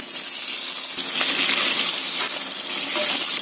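Potatoes fry in two tablespoons of hot oil for aloo kofta gravy, giving a loud, close, continuous sizzle with no voices.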